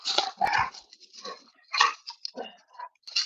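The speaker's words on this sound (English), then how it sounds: "obviously the dogs are playing next to my legs" Dogs play and wrestle in a backyard close to the microphone, giving short snuffles, grunts and bursts of scuffling in an irregular rhythm.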